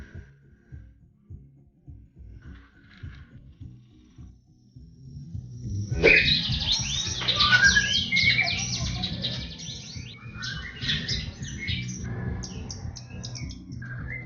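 A magpie robin sings a varied, rich series of whistles and chirps up close, starting after several seconds of low background rumble.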